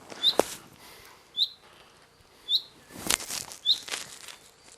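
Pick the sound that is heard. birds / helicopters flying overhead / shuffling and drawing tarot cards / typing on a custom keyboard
birds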